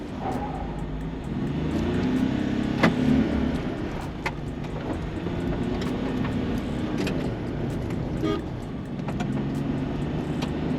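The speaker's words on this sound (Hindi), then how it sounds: "फर्स्ट गियर एंगेज कर लिया है, raving till 3000 RPM, let's go." A Mahindra Bolero Neo diesel SUV launches off-road in first gear, its engine revving steadily close by with a broad continuous rumble, a few sharp knocks and clatters from the rough track along the way.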